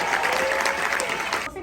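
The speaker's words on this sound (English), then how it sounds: "Please give a round of applause for our Director of Accessibility" An audience at a tech conference applauds steadily with dense, sustained clapping that holds throughout, then thins slightly toward the end.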